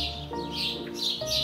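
Birds sing in a garden at a Scottish railway station, bright chirps and warbling phrases rising over a soft ambient backdrop in a brief close passage.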